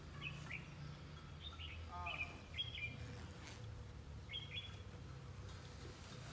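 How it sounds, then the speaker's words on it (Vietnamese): A caged wild bird used as a lure in a trapping setting gives short, high chirping calls in scattered bursts, fairly faint over a low background hum. "Rất tợn con chim nha."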